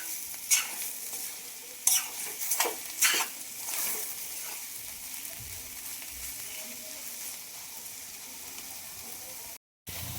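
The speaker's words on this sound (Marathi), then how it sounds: "आपल्याला फक्त 3 ते 4 मिनिटांसाठी इथे परतून घ्यायचं आहे" Paneer bhurji is sautéed in a pan over a steady, close sizzle, with a few sharp scrapes and clinks of the spatula early on, then a quieter stretch of frying with a brief dropout near the end.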